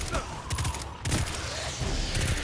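In the Destiny 2 shooter, a grenade is thrown and bursts amid gunfire, with loud, sharp blasts and rattling shots arriving in quick clusters, close and dense.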